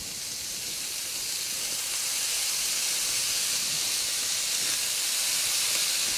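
Bacon lardons browning in a pan for coq au vin, giving a steady, even sizzling hiss that holds at a constant level throughout, with no voices over it.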